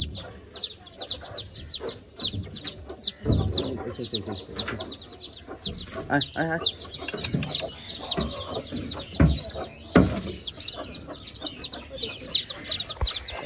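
A native hen clucks close by amid constant high chirping and peeping from her eleven newly hatched chicks, with occasional voices talking in the background.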